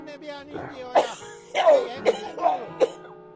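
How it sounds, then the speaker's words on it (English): A man coughs several times in a rough, rasping fit of short hacking bursts, close and clear, from a character in the video game My Winter Car. "Boy, he still has that cough,"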